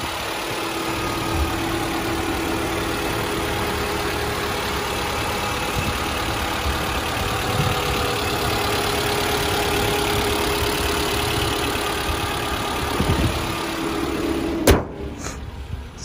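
A 2014 Mitsubishi Outlander ES AWD engine idles steadily with the engine bay open, a smooth continuous hum close by, ending in a brief clunk or knock near the end.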